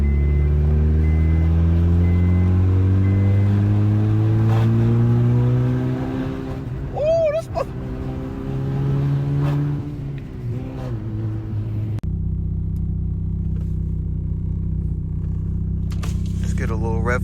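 A turbocharged Honda Accord's K24Z3 engine pulls hard in third gear, its drone climbing steadily in pitch before dropping to a lower steady hum after a shift, heard from inside the car with someone speaking over it.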